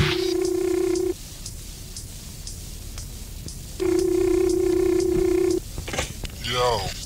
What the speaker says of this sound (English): Ran to the payphone and called up my nigga Screw.